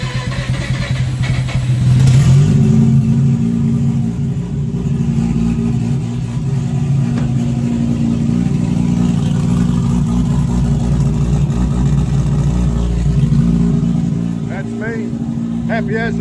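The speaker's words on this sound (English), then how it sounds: "So yeah, I'm well impressed with that starter motor." Mazda RX8 with a Renesis rotary engine, bridgeport turbo build, cranking on its starter motor, a loud steady droning whir for many seconds that dips near the end, with someone talking over it.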